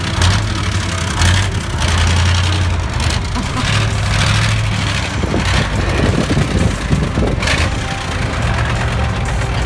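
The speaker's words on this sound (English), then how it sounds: "he took too big a risk by revving the engine without fully releasing the clutch." A heavy truck engine revs hard in a fail compilation, loud and close, with a low rumbling drone that surges and rises repeatedly over a rough, clattering background.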